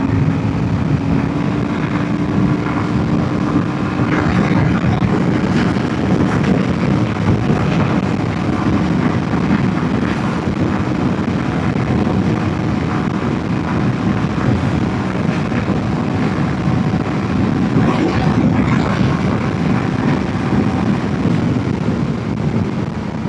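A Royal Enfield Himalayan 450 motorcycle, a 2025 model with a six-speed gearbox, runs at top speed on a highway, its steady engine drone buried under loud, continuous wind rush.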